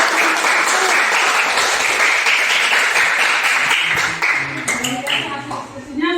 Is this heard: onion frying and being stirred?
no